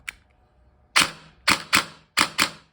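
A G&G G3 SGR556 airsoft rifle set to pre-cocking fires five sharp, crisp shots, close and loud, in quick uneven single clacks with short pauses between.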